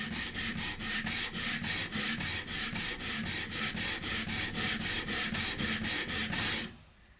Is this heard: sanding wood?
yes